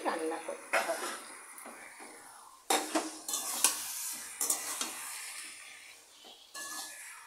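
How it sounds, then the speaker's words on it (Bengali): A pan of mashed boiled tomato and eggplant bharta cooked in mustard oil is stirred, giving scraping spoon strokes and clinks against the pan over a soft sizzle, close and fairly quiet, in irregular bursts. "এবার এটা দিয়ে ভালো করে নেড়ে নেড়ে রান্না করতে হবে।"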